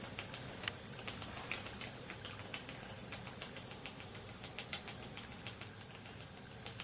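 An unidentified slow-speed stationary engine runs steadily with a horizontal safety valve, giving a regular, evenly spaced knocking beat over a continuous mechanical hum, moderately quiet and alone.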